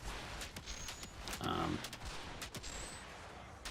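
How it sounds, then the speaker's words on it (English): Weapon fire in the shooter game Outriders as an explosive fire ability is launched behind enemies, a string of sharp shots and impacts in a steady irregular rhythm with a brief tonal burst midway, fairly loud. "So sometimes I shoot this explosive fire thing behind them"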